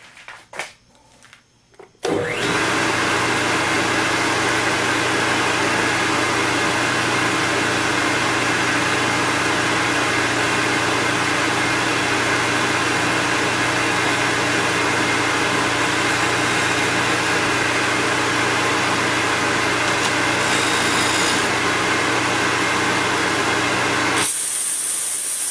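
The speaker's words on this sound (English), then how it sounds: "In order to keep the dust down, I am grinding them wet" A bench grinder wet-grinds bench stones with a diamond dresser held in a mag base, starting after a brief quiet moment and then running as a loud, steady broadband grinding hiss that continues unbroken, with a brief shift near the end.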